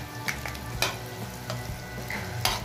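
Ginger and garlic frying in butter over a medium flame, stirred with a utensil: a steady sizzle runs throughout, with sharp scraping strokes against the pan at irregular intervals, close and moderately loud.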